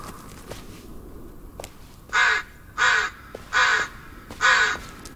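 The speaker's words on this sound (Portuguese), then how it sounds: "Passarinho muito louco aí, não sei que tipo de passarinho que é esse aí, corvo que é." Crow cawing in the 2019 video game Blair Witch: four loud, harsh caws spaced about a second apart over a quiet, faintly rustling outdoor ambience.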